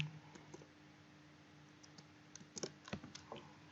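Fingers type on a computer keyboard, faint at first and then a quick run of closer, sharper key clicks in an irregular burst over a low steady hum, with no talk.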